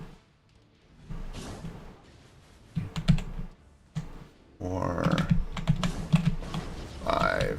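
Computer keyboard keys clatter in quick bursts of typing and clicking during a Marvel Future Fight gaming session, close and fairly loud, with someone talking over the keystrokes.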